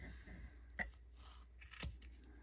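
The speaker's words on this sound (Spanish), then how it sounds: "Déjenme agarrar mis tijeras grandes." Large scissors snip through yarn to trim a tassel, giving a few sharp, close cutting clicks at irregular intervals against a quiet background.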